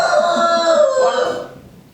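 A cockerel crows once, loud and close: a single drawn-out call that holds steady, then falls away and fades over about two seconds, with no voices around it.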